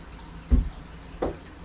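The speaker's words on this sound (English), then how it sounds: "So I'm going to have my first sip of water," A person takes sips of water during a home workout: two brief, soft liquid slurps about half a second apart, close and quiet, with no talking.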